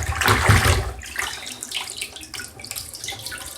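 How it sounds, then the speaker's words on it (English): Filter pads are rinsed under a running tap, water splashing loudly at first, then continuing in softer, uneven gushes and trickles. "you just rinse all your filter pads out"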